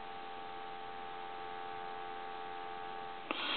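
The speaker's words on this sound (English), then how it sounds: "Dial tone." A Western Electric donut telephone gives a steady, quiet dial tone that hums continuously, ending with a brief click.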